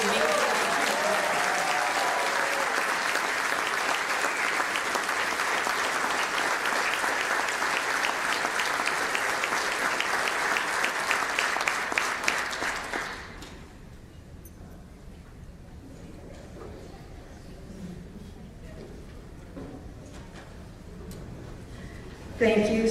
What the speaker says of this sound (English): So if I could get another gigantic round of applause for this amazing.